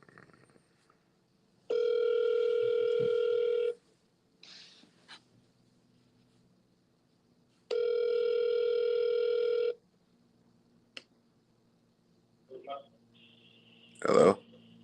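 An outgoing telephone call rings out twice, each long steady electronic ring tone lasting about two seconds with a silent gap between, clear and close, followed by brief faint sounds and a short voice.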